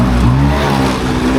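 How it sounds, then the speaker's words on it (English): Mopeds rumble past on the narrow streets of Marrakech old town, a loud close engine drone that swells and fades, with no talk. "mopeds everywhere"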